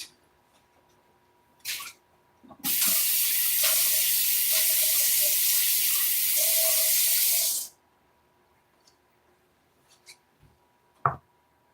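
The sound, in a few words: running tap water to get fresh painting water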